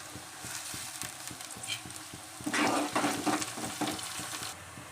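Curry leaves fry in hot oil in a pan for an okra and onion stir-fry, a steady sizzle with rhythmic spoon taps that burst into louder crackling spits midway, close up and without speech.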